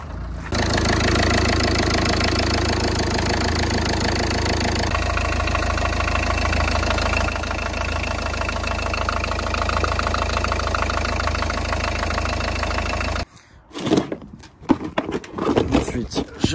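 A Citroen C3 1.4 HDi 68 hp diesel, which had been stalling while driving, idles steadily right after restarting following a TDC sensor replacement, a loud, close, clattering drone that runs for about thirteen seconds and then stops.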